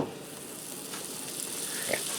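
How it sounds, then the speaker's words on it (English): Two sticks of butter sizzle steadily in a preheated large skillet, a continuous close frying hiss with faint crackles that swells slightly toward the end. "I'm going to add 2 sticks of butter in here."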